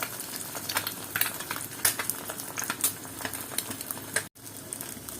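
An egg frying in a pan sizzles continuously close by, with crackling spits and pops and light scrapes of a utensil against the pan.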